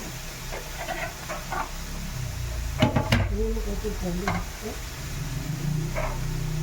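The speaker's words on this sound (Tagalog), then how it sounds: "Nilagay na po natin ang ating gigisang ampalaya mga katropa." Bitter gourd (ampalaya) is sautéed in a pan, giving a close sizzle with clattering stirs and scrapes of a utensil against the pan. Brief talk can be heard in between.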